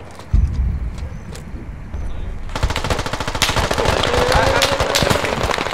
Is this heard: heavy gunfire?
yes